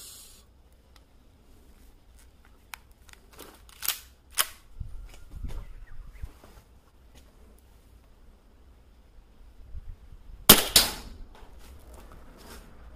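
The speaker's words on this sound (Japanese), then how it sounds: "マルゼンのファースト P38、こちらでちょっと撃ってみます" A Maruzen P38 airsoft pistol fires a few sharp, close snapping shots at irregular intervals, with quiet handling noises and near-silence between them.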